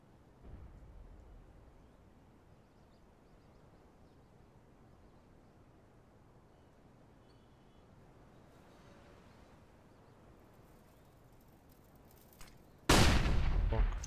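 During a Counter-Strike: Global Offensive match on Dust 2, a long stretch of quiet, low in-game ambience ends with a sudden, loud, harsh burst as a flashbang grenade goes off near the end.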